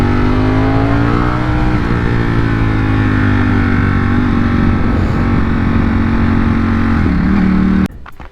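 Motorcycle fitted with CNC Racing lever guards and bar end mirrors, heard while riding: a steady, loud engine drone with wind rush that holds a constant pitch, then cuts off abruptly near the end.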